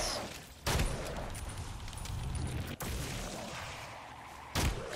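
Gunfire in the Evil Dead video game, heard as a few isolated heavy shots or booms spaced seconds apart over a dense, rumbling ambient bed, each one loud and abrupt.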